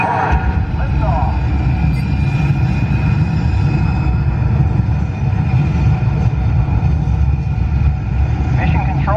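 The Mission: Space ride at Epcot produces a loud, steady, heavy roar of a simulated rocket launch that fills the whole stretch without letting up, with faint voices mixed in.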